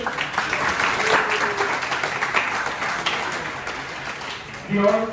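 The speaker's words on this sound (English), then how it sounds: "Can we have a huge round of applause for him?" An audience at a formal law institute event gives a round of applause, a dense patter of clapping for several seconds that thins out as a voice starts speaking near the end.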